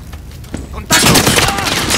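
A machine gun nest fires in a realistic video game, a sudden loud burst of rapid gunfire that breaks in after quieter noise and keeps rattling on, close and harsh.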